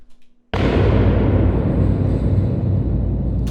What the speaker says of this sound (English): I really like these because they're these huge low thuds.